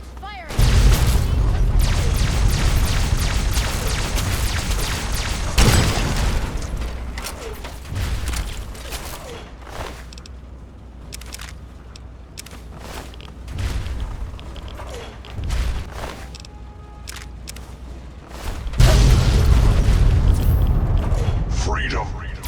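Weapons fire and explosions from a battle in the game Fallout 3, heavy booming blasts at the start and near the end with scattered crashes and mechanical clatter between, loud and dense, with voices speaking over parts of it.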